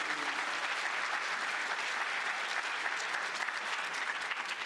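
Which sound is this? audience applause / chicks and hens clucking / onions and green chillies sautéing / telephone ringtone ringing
audience applause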